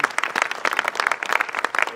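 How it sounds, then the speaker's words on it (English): An audience claps steadily in a brief burst of applause, dense and moderately loud, filling the room. "Can we get a round of applause for them?"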